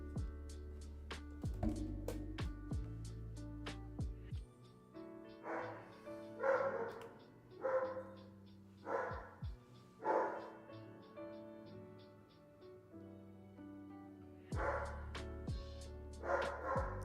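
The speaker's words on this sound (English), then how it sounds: "won't stop barking" A dog named Bruce barks in repeated short bursts, fairly close, with pauses between volleys, over a steady background hum.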